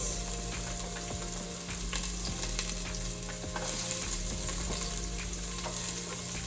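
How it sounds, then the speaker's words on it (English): Onions and garlic frying in a pot for vegetable soup, a loud, continuous sizzle with frequent scraping clicks from stirring and a steady low hum underneath, no talking. "Onions and garlic. So we want to soften these up a bit."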